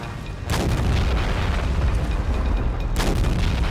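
A large artillery cannon in the Men of War video game fires two heavy booming blasts about two and a half seconds apart, each followed by a loud rumbling roar that fills the gap.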